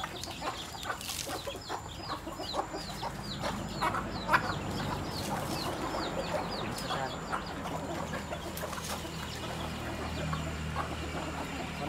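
Domestic chickens cluck near a basket trap that is being tested in the countryside. Repeated soft clucks and chirps come from several birds in a continuous, busy stream, with a faint rooster-like call now and then.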